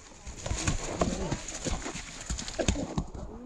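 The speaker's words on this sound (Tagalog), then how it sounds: "Yes, kabayo." A horse's hooves clip-clop on a jungle trail in the rain, a steady run of close, uneven thuds with birds and a voice faintly around them.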